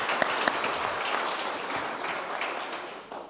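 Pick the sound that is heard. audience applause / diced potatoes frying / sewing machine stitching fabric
audience applause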